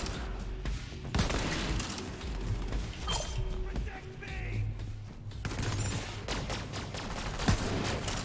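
Gunfire from a sniper-build FL4K battle in Borderlands 3: dense, repeated shots and bursts crackle throughout, thick and continuous, with game effects layered under intermittent talk.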